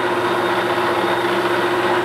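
A metal lathe runs steadily while machining a coupler for a Schuler MS-750 feed/mixer wagon, giving a loud, constant mechanical hum with a steady tonal whine and no pauses.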